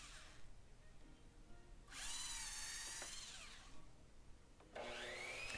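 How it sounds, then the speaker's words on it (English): A power drill whirs in two short bursts pre-drilling screw holes in wood, the first about three seconds long and the second starting near the end, with quiet room noise between. "I need to pre-drill the screw holes to hold the case together."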